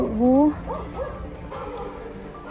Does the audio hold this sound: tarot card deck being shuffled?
no